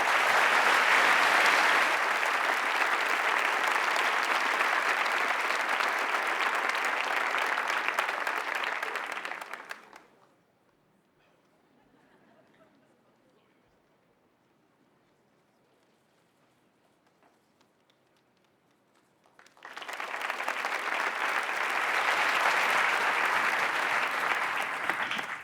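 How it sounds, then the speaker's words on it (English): A large audience at the Clinton Global Initiative 2016 annual meeting applauds Libraries Without Borders, with loud sustained clapping that breaks off into near silence midway and then swells back. "Please give Libraries Without Borders a round of applause."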